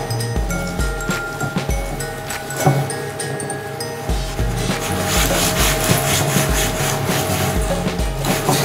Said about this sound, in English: I am going to go around the studs with Q-tips